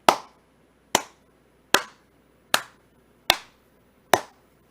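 Six single hand claps fall in a slow, steady rhythm about a second apart, each one sharp and close with a quick decay into quiet.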